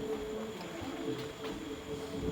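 Steady rumble of a train running, recorded from inside a carriage on the way to a Manasa temple, with a constant low drone and faint rattles throughout and no talk.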